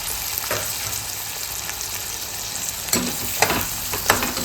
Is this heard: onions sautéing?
yes